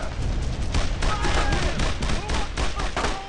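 Gunfire in the World War II game Brothers in Arms, dense overlapping rifle and machine-gun shots crackling in rapid bursts, loud and close throughout.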